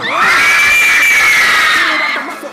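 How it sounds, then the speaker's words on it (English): A concert crowd of young women screams and cheers loudly and continuously for about two seconds, then the noise tapers off. "Listen, Young Queens, make some noise."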